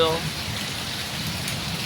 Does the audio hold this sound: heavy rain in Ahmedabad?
yes